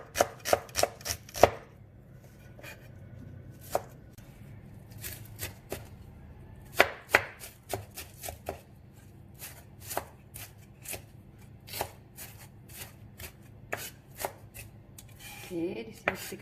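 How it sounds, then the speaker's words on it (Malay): Knife chopping shallots and onion on a board, a fast burst of crisp close taps at the start, then steadier scattered chops with short pauses, no talk. "Hiris dan cincang juga ya."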